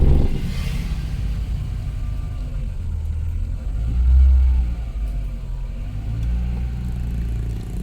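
Cars queue at the entrance to Alas Purwo park, with close low engine rumble and idling, a brief louder surge midway as a vehicle moves, plus faint whirring.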